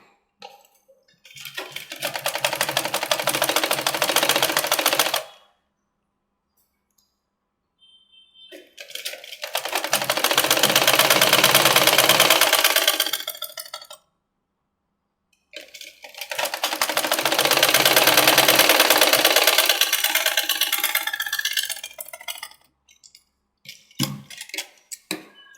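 A sewing machine stitches a puff sleeve in three long, loud bursts of rapid, even whirring, separated by pauses of silence, with a brief clatter at the very end.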